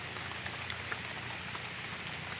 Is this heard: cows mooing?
no